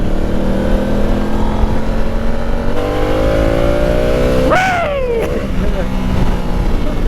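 A Ducati and a Honda Africa Twin motorcycle accelerate hard on the road, their engine notes rising steadily over constant wind rush before one engine sweeps sharply upward and falls back.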